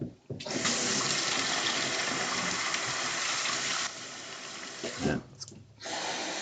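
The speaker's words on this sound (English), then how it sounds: "We're adding some water." Water pours in a loud, steady rushing stream into a pot of dal for several seconds, breaks off briefly, then resumes more quietly.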